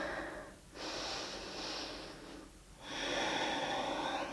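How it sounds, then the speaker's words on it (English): Slow deep breaths during a hip-opening yoga pose, a long airy inhale followed by a pause and another breathy exhale, close and quiet with no talking. "Take one more breath here"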